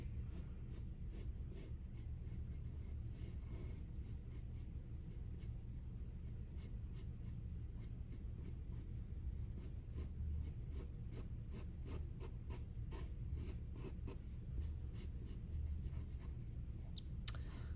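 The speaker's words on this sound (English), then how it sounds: "I'm gonna draw this side of the vase and embroidery hoop there." A pencil scratches and strokes across paper while a vase and embroidery hoop are drawn in a still-life sketch, giving faint, close, intermittent rubbing over a low steady rumble.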